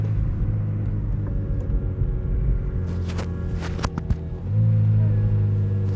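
A McLaren 570S Spider convertible roof closes while the car rolls slowly, with motor whir and a few clicks and clunks over steady road rumble and engine drone.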